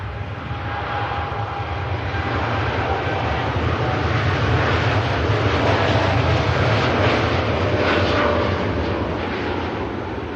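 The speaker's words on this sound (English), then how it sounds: "Off goes the TUI Dreamliner to Bridgetown, Barbados." A TUI Boeing Dreamliner takes off at Manchester Airport on a flight to Bridgetown, Barbados, its jet engines making a steady, loud broadband roar with heavy low rumble that holds for the whole stretch, rising slightly midway and easing toward the end.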